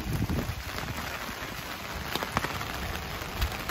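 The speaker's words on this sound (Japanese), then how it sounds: "さすがにこの雨だと傘をささないわけにいかないですね" Heavy typhoon rain falling outdoors near a train station, a dense, steady hiss of drops pattering on surfaces and an umbrella, loud and close with no voices.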